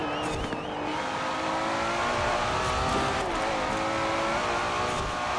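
Rear-wheel drive car engine in the racing game Forza Horizon 4, a steady loud drone with gear shifts and rising and falling pitch as the car accelerates, heard alone without talk.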